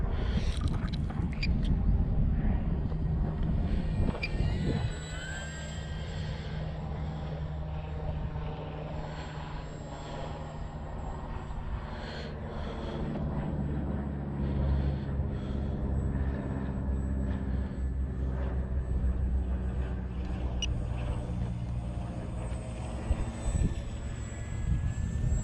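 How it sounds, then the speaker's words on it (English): A Parkzone T28 RC model airplane flies in lap patterns, its electric motor buzzing steadily at a distance and rising and falling as it passes, with no one talking. "It looks so pretty in the sky and it flies so precise."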